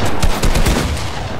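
Rapid gunfire in the video game Fortnite, a loud dense burst of overlapping shots filling the whole moment, with no talk heard.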